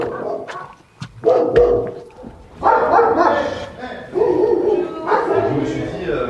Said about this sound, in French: Il y a plusieurs chiens, plus ou moins jeunes.